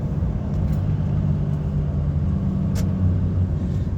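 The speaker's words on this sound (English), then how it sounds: "This wagon's chomping at a bit, getting past us." On the A82 in the Scottish Highlands near Fort William, a lorry overtakes: a heavy, steady low rumble of engine and road noise builds close by, with a few faint clicks and knocks over it.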